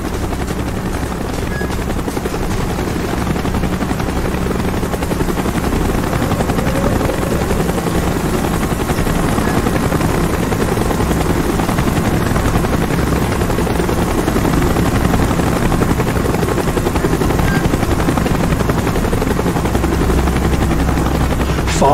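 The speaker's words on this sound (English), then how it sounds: "Chopper's inbound! Move it!" Helicopter from Call of Duty: Black Ops, a loud continuous rotor thrum and engine roar holding steady close by with no voices over it.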